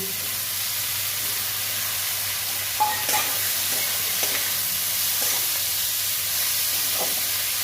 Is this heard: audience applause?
no